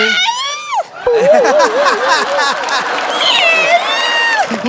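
A man imitating a cat on a Marathi TV comedy show, with drawn-out, wavering meow sounds repeated several times over a lively background.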